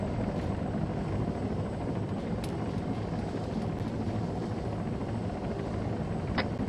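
Helicopter flying in the Arma 3 military shooter, a steady broadband rotor and engine drone holding at an even, fairly close loudness throughout with no voices.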